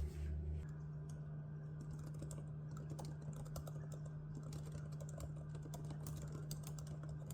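Soft, quick keystrokes patter on a computer keyboard during a writing session, a faint, irregular stream of clicks over a low steady hum in a quiet room.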